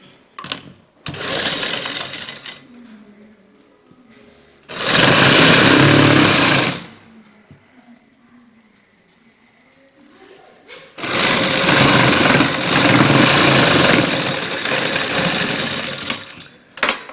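A sewing machine stitches a jointless fabric sleeve in bursts: a brief start, then two long runs of fast, loud mechanical whirring close by, separated by quiet pauses where a voice speaks softly.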